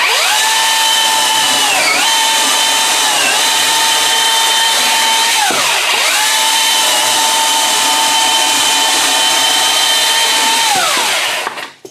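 A Milwaukee cordless chainsaw whines loudly and steadily at high speed, with brief dips in pitch as it's throttled, then cuts off abruptly at the end.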